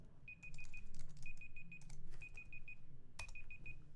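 A phone alarm beeps in repeated groups of four or five quick, steady tones, with short gaps between groups, alongside soft clicks and taps nearby.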